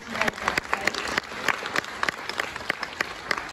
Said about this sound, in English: So she's done a fantastic job out here, so give her a clap.